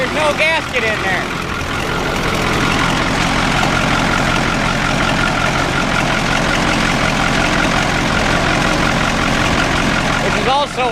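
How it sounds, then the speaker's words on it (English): A Ford 4-150 engine idling with a missing exhaust gasket on one bank, leaking exhaust; a steady, loud, rough rumble with a ticking puff runs continuously throughout. "Got one hell of an exhaust leak on this side."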